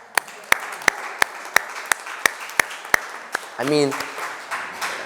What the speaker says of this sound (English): please give a round of applause to my parents